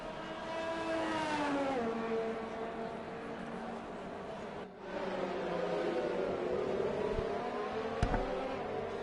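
An F1 car in the F1 2020 video game pulls away and accelerates, its engine whine rising through gear changes with a brief dip midway, heard clearly at moderate level.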